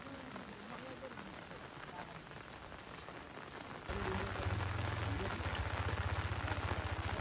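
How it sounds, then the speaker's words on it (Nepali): Sudden rain on a hiking trail to Okhreni waterfall near Sundarijal, Nepal, falls as a steady hiss that grows noticeably heavier partway through and keeps up a dense patter. "एक्कासी मौसम चेन्ज भएर पानी पर्न थाल्यो"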